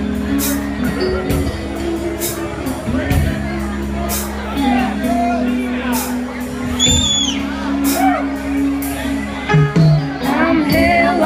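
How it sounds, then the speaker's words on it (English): An audience cheers and whoops for a singer at a small-town show, a steady crowd roar with shouts and whistles rising over it throughout. "Give her a round of applause"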